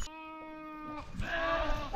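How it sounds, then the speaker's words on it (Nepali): A single sheep gives one drawn-out, wavering bleat while being herded in the Himalayas, followed by soft, rough vocal sounds and a sharp noise at the end. "फेरि सिका पसि गएछ भेडा त."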